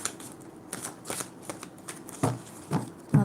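Tarot cards being shuffled by hand, a run of soft riffling flutters and slaps with a few sharper card snaps toward the end, close and fairly quiet with no talking.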